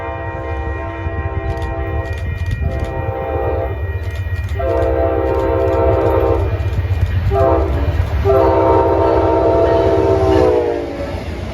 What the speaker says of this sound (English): Here it is passing through Cherry Street at track speed.